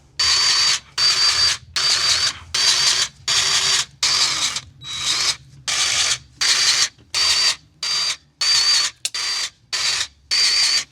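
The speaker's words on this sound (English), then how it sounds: "I'm going to grease all the zerks" A grease gun pumping grease into zerks on camper trailer axles, a loud close mechanical ratcheting clack repeated in about a dozen regular bursts separated by short silent gaps.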